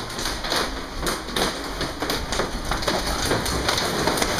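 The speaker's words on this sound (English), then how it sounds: "You can see the hail balls hitting it." A hail storm pelts hard surfaces with a dense, steady patter of countless small impacts, loud and continuous with sharper taps scattered throughout.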